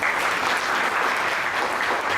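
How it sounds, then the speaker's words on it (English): A seminar audience welcomes a speaker with loud applause, a dense, even burst of many hands clapping nearby that holds steady for a couple of seconds. "I request all of you to welcome Gopal sir with a loud applause"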